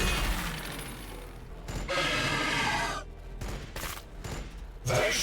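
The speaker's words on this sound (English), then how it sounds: "Heavy fire support." Heavy gunfire erupts in a Warhammer 40,000 BattleSector battle, dense overlapping bursts and booms that swell, drop away briefly and return loud near the end.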